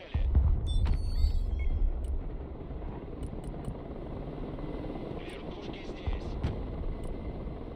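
Helicopters in the video game Broken Arrow thump overhead with a steady rotor drone, louder at first and then holding as a continuous hum, while a player and Russian radio chatter talk over it.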